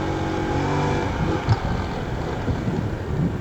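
A motorcycle riding along a road, its engine a steady close drone with small surges of throttle, wind rushing over it and no talk.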